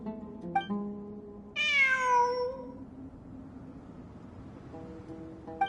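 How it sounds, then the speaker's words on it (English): A cat gives one loud, drawn-out meow near the middle, close and clear, with softer short mewing sounds at the start and end over a low, quiet background hum. "It really is a cat."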